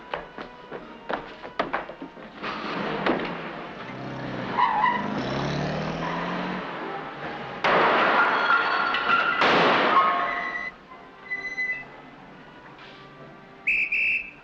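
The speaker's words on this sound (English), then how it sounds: "There's Seymour's twin brother parking the car." A car being parked in a 1949 comedy film scene, with long screeching tyre skids and a busy engine, mixed with sharp whistles and clatter. No one speaks.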